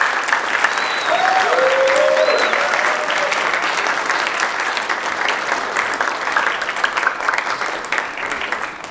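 An audience applauds at a city jazz concert, a loud, dense burst of clapping that stays steady and slowly thins out, with a few brief voices and whoops over it.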